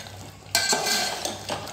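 Soybean chunks stir-fried with masala in a pan, a broadband sizzle that jumps up as stirring begins, with repeated scraping swells of the spatula against the pan, close and fairly loud, no talking.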